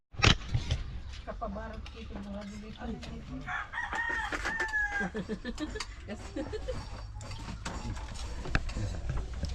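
A chicken clucks and crows amid mechanical clicking and rattling, with a few voices mixed in at moderate distance.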